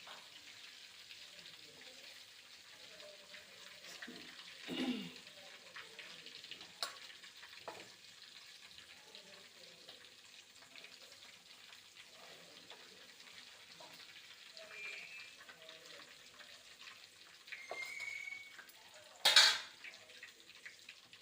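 Chicken leg pieces frying in a pan, a faint steady sizzle running throughout, with occasional clinks and stirring knocks of a utensil against the pan.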